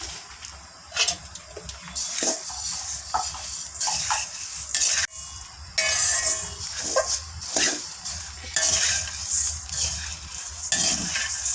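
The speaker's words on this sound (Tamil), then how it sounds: "பெருங்காயம் நல்லா இருக்கு தனியாக வறுத்துக்கலாம்" Asafoetida dry-roasting in a pan for homemade kuzhambu chilli powder, heard as steady scraping and stirring strokes with brief bursts of rustle, fairly close and continuous, with no talk.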